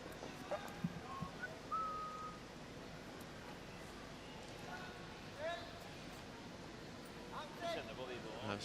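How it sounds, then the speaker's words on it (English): A curling player whistles a few short, faint tune fragments out on the ice during a men's world championship game between Germany and Norway, heard over arena murmur and a commentator. "Just having a bit of a whistle there."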